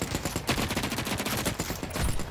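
Rapid automatic gunfire from The Cycle Frontier, a sci-fi extraction shooter, rattles in a dense continuous burst for over two seconds, loud and close with no talk over it.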